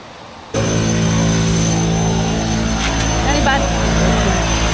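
A propeller airplane engine starts up at the steep Lukla runway in Nepal, a loud, steady droning roar with a strong hum that begins suddenly and holds, while faint voices are heard beneath it.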